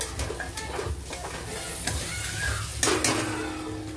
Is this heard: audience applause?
no